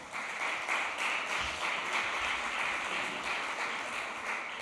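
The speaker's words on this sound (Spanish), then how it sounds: "Aplauso para él." Audience applause greets a consultancy director at a Canary Islands public event, a continuous wash of clapping heard from some distance, even and moderately quiet with no talking.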